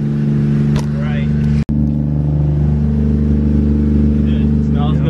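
A Nissan R34 Skyline idles and revs in a garage, its engine a loud, steady rumble with a brief dropout midway, while people talk over it.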